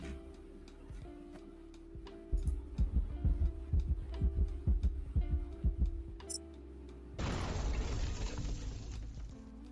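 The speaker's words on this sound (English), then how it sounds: "I just hear a heartbeat." A steady run of soft, low thumping heartbeats pulses through the middle of the recording, followed by a hissing wash of noise.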